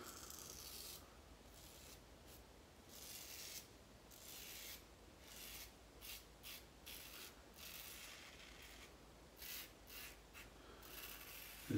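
A Rex Ambassador safety razor scrapes steadily across stubble against the grain in repeated short, raspy strokes, close and crisp, with brief pauses between passes.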